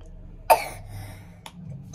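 A child coughs indoors, three short sharp coughs spaced unevenly over two seconds, close to the microphone, with quiet background between them.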